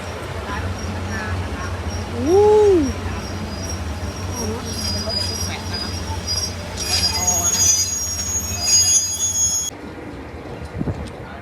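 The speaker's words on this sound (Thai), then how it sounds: "เปลี่ยนรางเพื่อเอารถ EV ไปเข้าย่านพระหลโยธินนะ" An EV test train hauled by locomotive 4510 switches tracks on its way back to the Phahonyothin yard. Wheels squeal sharply and rumble loudly nearby, with a steady rolling drone underneath and some talk at times.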